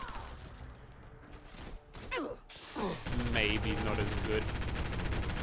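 A .38 machine pistol (Mac-11) in Fallout 4 fires in rapid continuous bursts, with a loud sustained stretch of automatic fire following brief talk and a few shorter shots.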